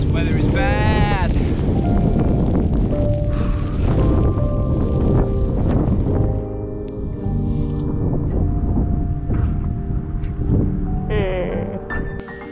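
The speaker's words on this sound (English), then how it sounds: "It's been a pretty wet and windy morning." Heavy wind buffets the microphone on a wet, windy morning while bike touring the Hebridean Way in Scotland, a constant rumbling roar with people talking through it.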